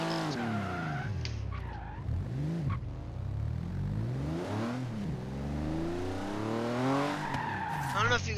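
A Porsche driven in Forza Horizon 3 roars and revs continuously, with engine pitch sweeping up and down through gear changes and tire squeal near the end, loud and steady throughout without talk.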